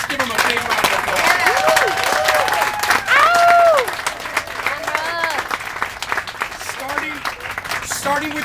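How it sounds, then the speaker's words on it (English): A studio audience applauds and cheers for a television camera crew, with steady clapping under whoops and excited voices that rise and fall throughout. "let's give them a big round of applause"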